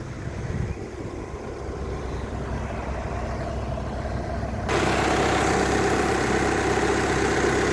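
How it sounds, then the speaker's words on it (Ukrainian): A steady car engine with 290,000 km on it idles with a constant low rumble, running evenly throughout and growing slightly louder and brighter near the end. "Моторчик працює ідеально."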